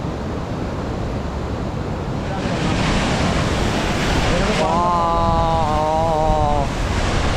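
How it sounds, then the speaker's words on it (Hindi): Strong, steady rush of water from a waterfall near Kalpeshwar Temple in the Urgam Valley, Uttarakhand, a loud broadband roar that swells midway, with a faint whistling tone riding over it near the end. "पानी का फ्लो इतना तेज़ है कि लगभग 100 मीटर दूर यहाँ तक पानी के छींटे आ रहे हैं"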